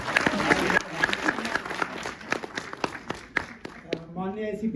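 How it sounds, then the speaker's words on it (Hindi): Applause at a Delhi Police retirement party welcoming a retiring officer, steady clapping from a crowd under a speaking voice, with louder claps standing out near the end. "तालियों से स्वागत कीजिए।"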